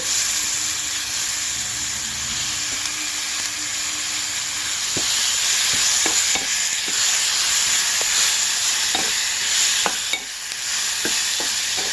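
Thinly chopped tomato pieces sizzle steadily in a hot pan for a chikkudukaya curry, a constant hiss broken by irregular clicks and scrapes of stirring.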